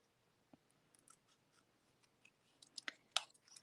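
Scissors trimming cardstock and paper elements for a handmade card, a few quiet snips and crisp cuts scattered near the end, close and faint with no talk.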